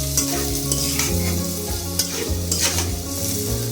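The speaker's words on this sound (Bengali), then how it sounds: "এখন এটাকে আমি সুন্দর করে একটু নেড়ে চেড়ে দিব।" Onions frying in a pan for a prawn bhuna, stirred steadily, with a constant close sizzle and repeated scraping strokes of the spoon running through.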